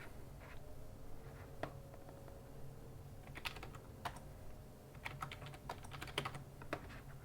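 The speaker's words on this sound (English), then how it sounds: "if I type the right thing in" Faint computer-keyboard typing, irregular clicks in short bursts over a low steady room hum, heard alone without talk.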